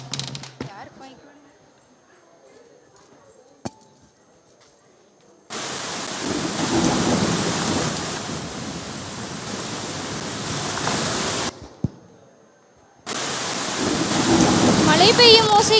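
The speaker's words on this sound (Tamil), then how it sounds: "மழை பெய்யும் ஓசை கேட்கிறதே." A rain and thunder sound effect plays during a stage play: steady, loud hissing downpour with low rumbling, starting after a quiet stretch, stopping briefly, then resuming at full strength.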